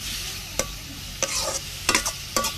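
Kulekhara leafy greens stirred in a hot pan with a little turmeric give a steady low sizzle, broken by four or five sharp scraping clatters of a spatula against the pan at uneven intervals.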